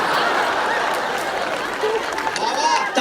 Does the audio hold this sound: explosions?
no